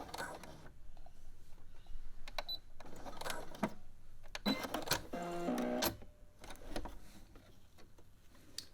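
A sewing machine runs in short stitching bursts across the elastic and mesh of a sports bra, with pauses and a reverse pass, near and moderately loud, with faint clicks between runs.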